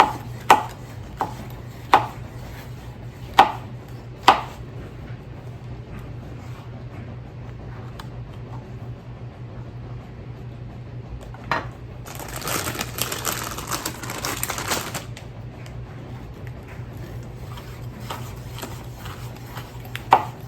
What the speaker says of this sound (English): I'm just gonna strip these peppers.